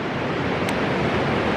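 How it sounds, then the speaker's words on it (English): Ocean waves rushing in a sea cave at Tunnel Beach near Pacific City, a steady broadband roar of surf and wind filling the space without voices. "And there's the ocean, which you can't see right now."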